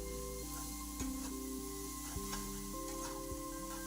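Chhana bhujiya mixture frying in a pan is stirred, with a steady close sizzle and soft scraping strokes, quiet and without speech, over a faint tonal background.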